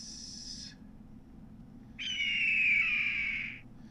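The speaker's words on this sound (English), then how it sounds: "that bird. We're going to hear that bird all night." A bird calls in the Tex Murphy: Overseer video game, two drawn-out whistling hoots, the second longer and louder, set over a low ambient hum.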